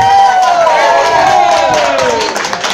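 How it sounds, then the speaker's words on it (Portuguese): An audience at a birthday party gives a round of applause with cheering, a dense wash of clapping and shouts close by, with a musical tone sweeping downward through it before it thins out. "Uma salva de palmas aí para essa turma."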